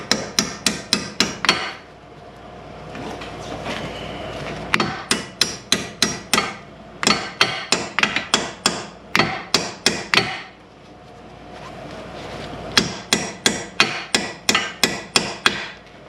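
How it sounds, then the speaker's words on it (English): Rapid bursts of sharp metallic hammer strikes ring out in groups, loud and close, with short pauses between volleys, as a lubricated bolt is hammered through a 2013 Mazda CX-5 lower control arm. "we're just going to spray it down, lube it up, and then we'll"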